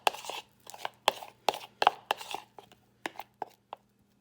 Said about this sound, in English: So you want to stir this until you can't stir it anymore.